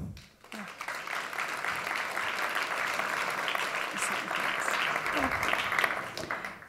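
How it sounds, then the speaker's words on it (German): Warm applause greets a speaker at a Winterkongress talk, a sustained crowd clapping that swells quickly after a brief start and holds steady throughout at a moderate distance. "Begrüßt mit einem herzlichen Applaus Katharina Nokun."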